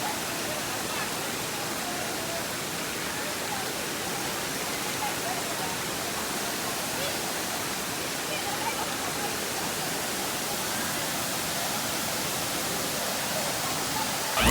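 Cambugahay Falls in Lazi, Siquijor, roars as a steady, dense rush of falling water that holds even and loud from start to finish.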